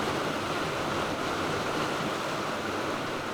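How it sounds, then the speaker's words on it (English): Ocean surf breaks along a rocky coast in Japan, a steady, loud wash of roaring water with no clear gaps between waves and no voices. "the waves are coming in this direction"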